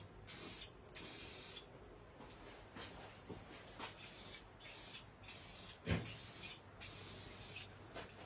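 During a firearm restoration, a spray can lays a light first coat on a gun part in a series of short hissing bursts, about a dozen evenly spaced puffs, close and clear with quiet pauses between them.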